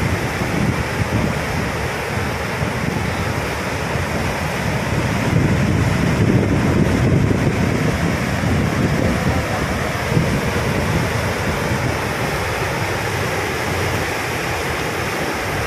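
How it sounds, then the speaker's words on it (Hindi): Waves churn across the brimming Panchet Dam reservoir in a steady, loud wash of surf lasting the whole stretch, with heavy wind buffeting the microphone throughout and no talk. "और देखिए पानी पानी किस तरह लहर मार रहा है।"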